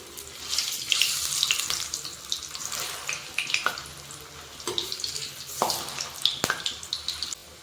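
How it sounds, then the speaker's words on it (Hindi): Pointed gourd (parwal) rolls frying in oil over a low-to-medium flame: a steady, close sizzling hiss with scattered crackles and pops that rises and falls as the rolls are turned. "इसे हम उलट पलट कर लो टू मीडियम फ्लेम पर इसे अच्छी तरह से फ्राई कर लेंगे सुनहरा होने तक।"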